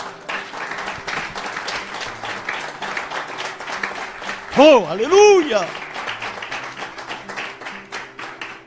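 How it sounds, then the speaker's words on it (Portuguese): A church congregation applauds during a worship service, sustained clapping throughout while a voice rises in an exclamation partway through. "Dê um aplauso a Jesus."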